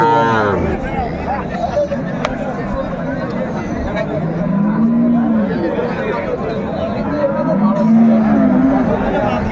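Cows and calves at Raniganj cattle market low out in two long, drawn moos over a busy crowd's steady chatter and general market bustle.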